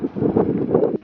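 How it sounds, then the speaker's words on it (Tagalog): Wind blowing hard in an outdoor park by driftwood, a steady low rushing roar buffeting the microphone for about a second, loud and close with no talk. "Ang hangin."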